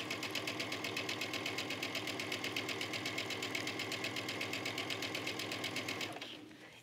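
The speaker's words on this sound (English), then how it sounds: "All right, and just keep stitching away." A sewing machine stitches a trench coat collar, running at a fast, even mechanical rhythm of needle strokes for about six seconds before stopping abruptly, heard close and steady with no talking.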